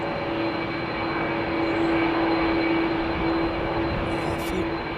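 CF6 jet airliner engines at London Heathrow Airport roar steadily at a constant pitch, with a whining tone riding over the broad rumble.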